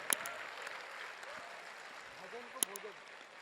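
A Hindi comedy poetry gathering in Kolkata produces faint, thin applause from the audience, a soft scattered clapping with a couple of sharper claps, while a voice talks quietly underneath.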